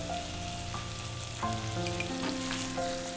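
Tomatoes sautéing in a pan with salt for a Kerala chicken curry, a steady sizzle and crackle with occasional stirring, close by over a faint background hum.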